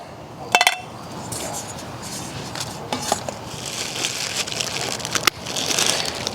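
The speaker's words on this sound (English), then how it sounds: "And I got my little Jetboil Summit skillet. Along with my Kuvik plate." Jetboil Summit skillet and Kuvik plate knocking together while handled at an evening hammock camp, a few sharp metallic clinks scattered over soft outdoor background noise.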